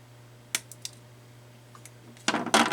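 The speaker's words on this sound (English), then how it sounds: "I'm going to trim that lead leg." Cutters snipping a component lead leg on a Dell ATX power supply circuit board: a few small sharp clicks over a low hum, then a louder cluster of clicks and rattles at the end.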